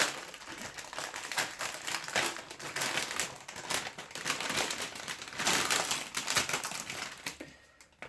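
Foil wrappers of Panini FIFA 365 2021 card packets crinkle and crackle up close in repeated bursts as they are torn open and handled, with no talk.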